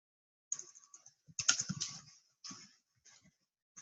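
Someone types a search phrase on a computer keyboard, quiet close-up key clicks in short irregular bursts separated by brief pauses.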